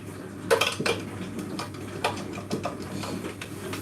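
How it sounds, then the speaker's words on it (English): A metal spoon stirring mandazi batter in a pot, producing irregular clinks and scrapes against the sides, close and moderately quiet over a low steady hum. "so I'm gonna stir it until it's done"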